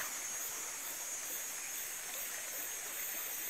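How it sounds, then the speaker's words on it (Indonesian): A rocky jungle river flows with a steady, broad rushing hiss, even and unbroken for several seconds with no voices over it. "Wah, sungai berbatu."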